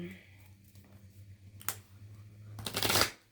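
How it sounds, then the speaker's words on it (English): Playing cards riffle-shuffled: a quick burst of flutter, a pause with faint murmur, then a longer, louder riffle ending in a snap. "We'll do just a little bit of this kind of shuffling."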